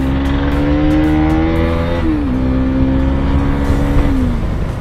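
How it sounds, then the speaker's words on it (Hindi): KTM Duke 390 motorcycle revving hard in a drag race against an NS200, a loud steady engine drone that climbs, dips at a gear change and climbs again, close and continuous with traffic noise around it. "390 पावरफुल बाइक है ब्रो,"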